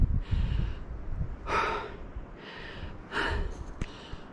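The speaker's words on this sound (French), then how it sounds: "il faut que je reprenne ma respiration" A man catches his breath after exertion during a commando training course, taking several loud, heavy gasping breaths at close range, with rhythmic inhales and exhales over faint outdoor background noise.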